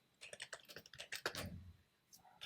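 Computer keyboard keys clatter in quick, uneven bursts while C code is typed, close and fairly soft, pausing briefly near the end, with no talking.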